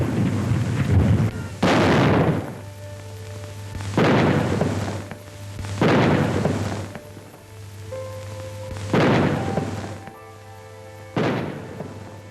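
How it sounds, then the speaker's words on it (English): Cannon salute fired around the country in 1952 to commemorate King George VI: five or six heavy booms at roughly two-second intervals, each with a broad rolling decay, heard over a low steady hum. "Around the country, cannon fire commemorated her father, King George VI"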